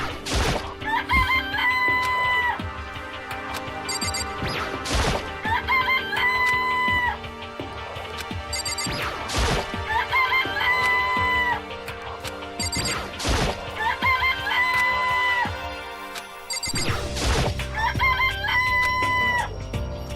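Chickens in a coop in the video game Danganronpa give loud, repeated crowing and clucking calls over a looping game soundtrack, recurring in regular bursts every few seconds.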